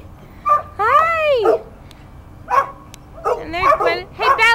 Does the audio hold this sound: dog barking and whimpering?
yes